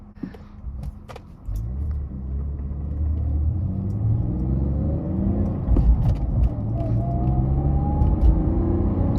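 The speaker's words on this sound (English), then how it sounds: "This car drives so smooth." A BMW E46 car engine hums and rumbles from inside the cabin, rising gradually as it accelerates, with steady road noise underneath.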